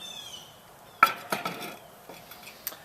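A pizza stone is set down on top of a skillet with one sharp clank, followed by a few lighter knocks and scrapes as it settles, in an otherwise quiet kitchen.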